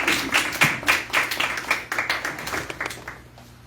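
Audience applause at a church gathering, a burst of clapping from a crowd that is loud at first and gradually thins out and fades.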